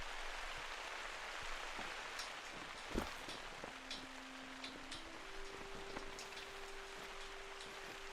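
Steady rain patters on surfaces at a lake in the video game theHunter: Call of the Wild, with occasional heavier drips and a faint low hum joining partway through, continuous and even.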